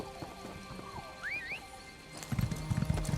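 Horse hooves clip-clopping in The Elder Scrolls Online, soft rhythmic clops at first with a brief whinny, then heavier, louder hoofbeats in a quick run toward the end.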